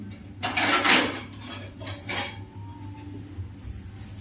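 Dishes, pots and metal vessels are washed outdoors, with clattering clinks and scraping knocks of metal and cutlery coming in short bursts, close by with no talking.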